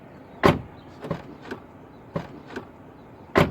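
A Hyundai Accent 1.3 Admire car door is worked by hand, giving a sharp latch click, a few softer clunks and rustles, then another firm click, close and clear with no talking.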